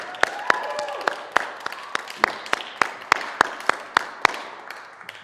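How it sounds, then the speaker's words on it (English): Sparse, evenly spaced claps ring out one by one at a music therapy songwriting competition, a small audience applauding after a song, crisp and fairly close with no voices over them. "let's give one last round of applause to Mariah for that amazing song"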